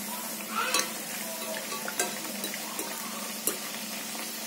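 Ragi flour poori frying in oil, a steady soft sizzle with a few brief clinks and scrapes of a utensil as the bread is turned and oil is added.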